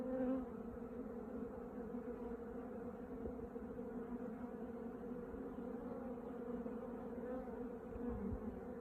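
Bees and small wasps buzz continuously around a hive in an apiary, a steady, even drone of many insects at moderate distance with no voices.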